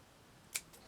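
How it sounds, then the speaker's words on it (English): A single crisp snip of scissors cutting through a hair clip flower, one sharp close cut followed by a faint softer click, with quiet surroundings. "Then what I'm going to do is to snip"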